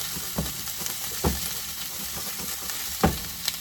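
Meatballs seasoned with Italian seasoning fry in a pan, giving a steady close sizzle with a few soft knocks as they are stirred and turned; no one speaks.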